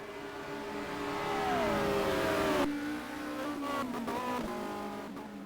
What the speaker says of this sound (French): Et derrière, toujours Seitner qui va doubler, qui va essayer de doubler McCleary et qui va y arriver.